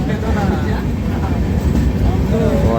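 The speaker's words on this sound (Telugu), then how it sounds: "గోదావరి రివర్ మీద నుంచి వెళ్తుంది ఇప్పుడు మన ట్రైన్" A train rumbles steadily across the Godavari river bridge, a dense, continuous roar of wheels and carriages close by, with a voice talking over it throughout.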